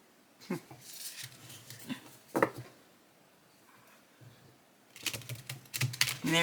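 Bursts of rapid riffling and flicking of small Lenormand cards being shuffled, close by, separated by a quieter stretch, with a little background noise.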